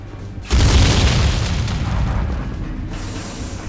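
In the video game Star Trek Elite Force 2, a sudden loud boom bursts out after a brief quiet, followed by a long rumbling, crackling decay of explosions.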